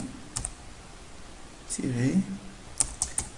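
A burst of keystrokes on a computer keyboard as a project name is typed, with scattered close clicks and a short run of taps, while someone speaks over part of it.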